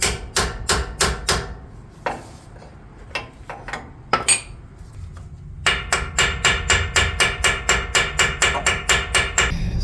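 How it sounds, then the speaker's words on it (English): Metal hammer strikes driving a control arm bushing into a Toyota Tacoma, a rapid run of sharp ringing blows, a pause with scattered taps, then a long steady series of even, loud hits. "And then you're going to hammer this."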